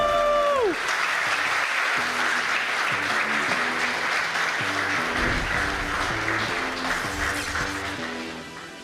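Sustained crowd applause with clapping and cheering at a live chess event in Paris, loud and steady, gradually fading toward the end.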